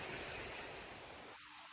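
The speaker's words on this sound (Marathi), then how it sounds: "तर जरा नदी दाखवतो तुम्हाला" A river flows steadily as a broad, even wash of water noise, close and continuous, easing slightly toward the end with no voices over it.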